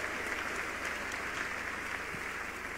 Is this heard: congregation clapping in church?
yes